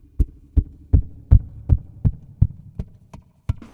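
Percussive thumps struck on the body of a Maton Mini AP5 Pro acoustic guitar through its piezo pickup, about ten deep, kick-drum-like hits in a steady pulse, close and punchy with no talking.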